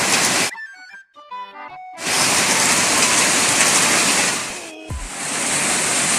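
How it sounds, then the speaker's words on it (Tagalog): Steady rain falling outdoors during a motorcycle fairing spray-paint job, a dense broadband hiss that fills most of the clip after a short musical-sounding break, with a brief dip near the end before the downpour resumes. "Ayan o, umuulan na naman o."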